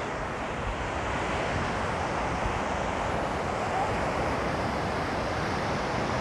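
Surf washing onto Vleesbaai beach in the Western Cape, a constant broadband roar of breaking waves mixed with wind buffeting the microphone, steady and close throughout.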